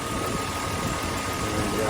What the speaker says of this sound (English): they've brought our idle up 100 revs, a bit more